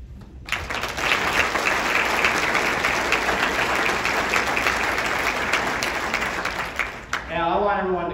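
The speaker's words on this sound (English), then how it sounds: "I want everyone to clap even louder" An audience at a city state-of-the-city address breaks into sustained loud applause, a dense wall of clapping that holds steady for several seconds, then cuts off as a voice begins talking.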